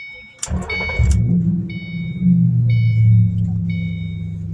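A Ford Mustang GT 3-valve engine cranks and roars to life up close, then settles into a deep, steady rumbling idle with a brief surge partway through.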